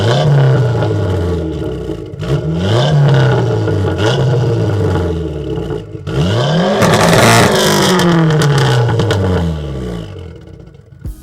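A 2005 Dodge Neon SRT-4 with an upgraded larger turbo, about 420 horsepower to the front wheels, accelerating hard through several gears, engine pitch climbing and dropping at each shift, loud and close from inside the car.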